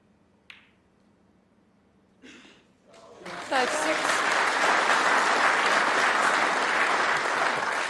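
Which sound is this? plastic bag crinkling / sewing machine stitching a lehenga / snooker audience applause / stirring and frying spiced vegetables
snooker audience applause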